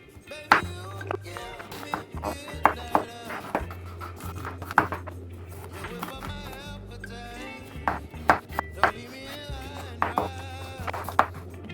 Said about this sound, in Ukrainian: Беремо цибульку. Дуже дрібно її нарізаємо.